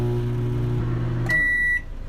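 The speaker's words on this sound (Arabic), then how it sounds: "صوت مايكروويف" A household microwave oven hums steadily for over a second, then stops with a click and sounds one loud, sustained electronic beep before falling quiet.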